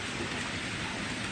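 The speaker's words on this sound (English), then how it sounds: "it's raining" Rain pours steadily outside in a small back garden in Japan, a dense, even hiss of drops on surfaces, close and constant with no talk over it.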